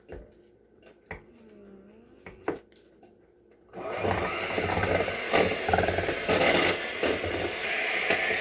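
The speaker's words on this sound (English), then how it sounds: "I'm just using my hand mixer to mash up these bananas" An electric hand mixer mashes bananas for banana bread: a few soft clicks, then the beaters start with a loud, steady whirring grind that runs close up to the end.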